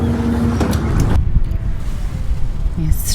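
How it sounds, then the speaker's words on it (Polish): A boat's engine runs on a river on a morning trip upstream, a loud continuous low rumble mixed with wind buffeting on the microphone, cut by a brief higher noise near the end. "silnik już włączony"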